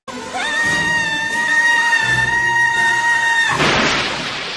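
Exaggerated, theatrical screaming from the film Mac and Me, a loud sustained wailing cry that holds for several seconds before breaking off into a burst of noise.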